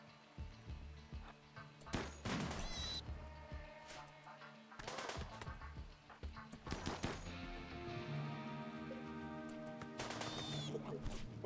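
Gunfire in the colony game RimWorld, with several separate bursts of rapid shots cracking between quieter stretches of low, droning background sound, fairly faint overall.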